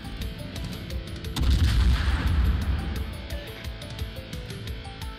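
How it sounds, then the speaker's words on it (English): Heavy naval guns from the battleship Vermont firing in World of Warships: a deep booming salvo swells, then rumbles and fades slowly under a steady low drone of battle ambience. "Vermont shooting at me"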